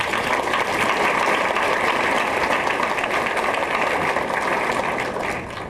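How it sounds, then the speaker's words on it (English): Sustained, dense applause from a large audience at a graduation ceremony held in a hall, loud and steady throughout before easing slightly at the very end, with no talking over it. "Let's have a round of applause for Dr. McKinley."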